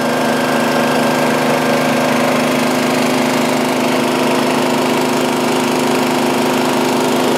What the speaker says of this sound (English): Now you have a better view of the actual cut, bevel, and groove.